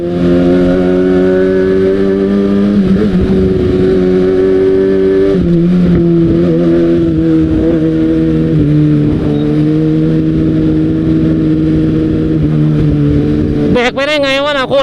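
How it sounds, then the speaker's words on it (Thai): A Kawasaki Ninja ZX-6R motorcycle with a loud exhaust rides through heavy evening traffic, its engine droning steadily and loud with shifting revs, then a quick rising rev near the end. "โอ้ทำไมท่อมันดังอย่างนี้วะ"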